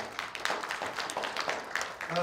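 An audience at an academic symposium claps after a presentation, a faint, steady patter of many hands with small irregular peaks, heard from a distance in a hall.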